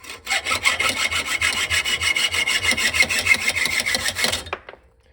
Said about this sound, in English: now that it's cut off flat, you can cut it straight across the middle here until it gets as low as you can get